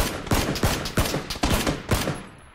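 Rapid bursts of gunfire from the battle royale game PUBG, about seven sharp shots at irregular intervals, loud and close with no talking.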